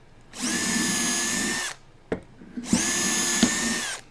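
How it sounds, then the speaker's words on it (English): A power drill whirs steadily for over a second, stops with a few clicks, then whines again for another long burst, boring a hole through stock using Jessem Clear-Cut stock guides. "Let's just say that hole has been drilled with the path guide system."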